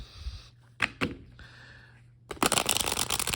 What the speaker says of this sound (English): And let's see how these shuffle, shall we?